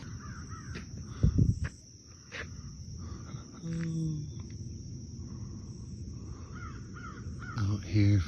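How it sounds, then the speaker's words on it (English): Two small birds trade harsh, caw-like calls outdoors along the Florida intracoastal waterway at an early-morning, cloudy sunrise, with a few scattered calls over a steady bed of insect and ambient noise. "Two little birds calling out to each other."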